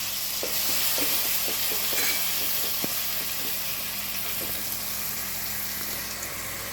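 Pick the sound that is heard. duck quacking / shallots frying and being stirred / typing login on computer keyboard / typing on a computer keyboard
shallots frying and being stirred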